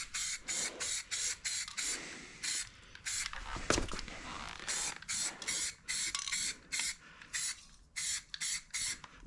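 Short bursts of aerosol spray paint hiss in a quick irregular rhythm on the wheels of a 1939 Dodge sedan, close and fairly quiet, with a brief clunk partway through.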